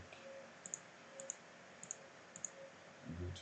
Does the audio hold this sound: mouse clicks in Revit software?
yes